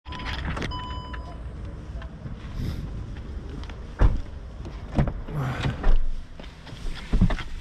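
A car is unlocked and opened in cold, windy weather, with keys jangling, a click and the thud of a door over steady wind noise on the microphone.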